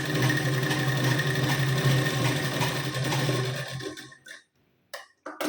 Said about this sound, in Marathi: आणि इथून शिलाई देऊन घ्यायची.